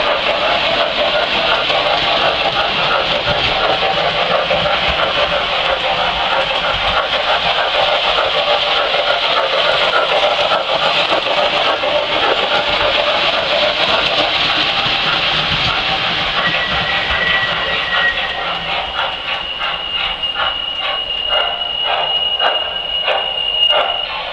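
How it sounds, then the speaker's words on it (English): A standard gauge model Pennsylvania Railroad freight train set's onboard sound system plays a steady loud hissing, rumbling run, with a thin high brake squeal rising in the last several seconds as the train slows. "by cutting back on the throttle kind of rapidly, you get brake squealing effect sounds as well"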